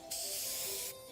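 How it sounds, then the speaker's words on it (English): Fluffy Tail Hairspray sprays in the Neverness to Everness video game: one close, loud, continuous aerosol hiss lasting nearly a second, starting and stopping abruptly over a low musical hum. "One spray to victory, Fluffy Tail Hairspray."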